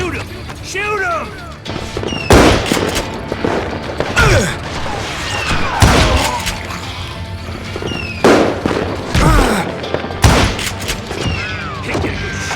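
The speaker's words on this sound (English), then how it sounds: "Shoot him! Shoot him!" Call of Juarez: Gunslinger gunfight with loud sharp gunshots cracking at intervals among echoing ricochet-like tones and game effects, each shot a sudden close burst.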